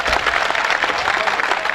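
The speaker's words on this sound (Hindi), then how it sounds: "एक बार जोरदार ताली बजा के कवियों के सम्मान बजाएं।" An audience at a Hindi poetry recital in Parbatsar claps loudly together, with dense sustained applause that fills the whole moment.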